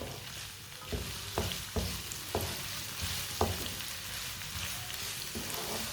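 Vegetables frying in a pan hiss steadily up close while a spoon stirs them, scraping and knocking against the pan every second or so.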